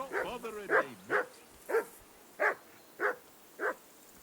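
A dog in the video game Kingdom Come: Deliverance II gives a run of sharp, evenly spaced barks, about six, close and loud, after a short whiny vocal at the start.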